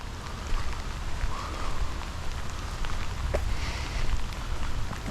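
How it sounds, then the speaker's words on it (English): Steady rain falls outdoors near a light-rail line at a mug station, a continuous dense hiss of drops hitting surfaces, close and fairly loud with a few sharper splats. "In the rain."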